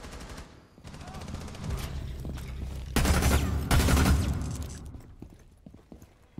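Gunfire punches through a wall in Rainbow Six Siege, a rapid burst of loud close shots with heavy low thumps that builds and then cuts off, backed by a background rattle of game noise.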